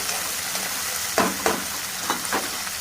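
Tomatoes sizzle in a pan with onion and curry leaves, a steady frying hiss broken by four sharp stirring scrapes, close and alone.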